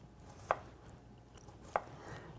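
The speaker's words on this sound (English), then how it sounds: "And I just dice them this way" A knife dicing food on a cutting board for a crab salad, two crisp, well-spaced chops close by over quiet room tone.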